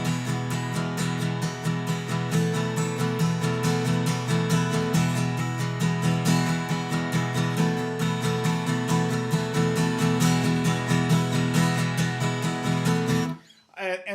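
Steady guitar strumming with up and down strokes keeps an even rhythmic pattern, loud and continuous, before stopping abruptly just before the end.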